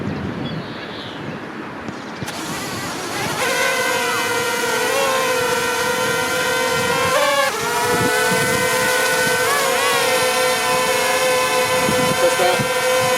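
After a quiet start with wind noise, a Zerotech Dobby drone's propellers spin up to a steady, high, buzzing whine that wavers in pitch as it hovers and moves close by, while a person talks.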